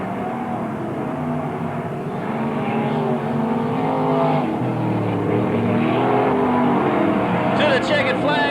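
Sprint cars roar through an opening heat at Parramatta City Raceway, a loud, sustained engine drone with rising and falling pitch as they lap, under excited race commentary.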